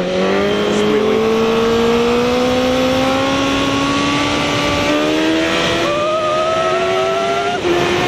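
A motorcycle engine revs hard while the rider holds a wheelie on the road, a loud continuous whine climbing steadily in pitch with a brief shift midway, no talking over it.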